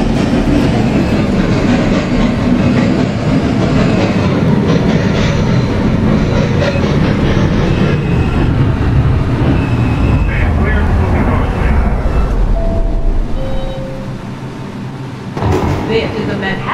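A Roblox New York subway train, a Manhattan-bound 5 local, rumbles along with a loud continuous roar and clatter, then a brief quieter moment and a chime-like tone as it settles.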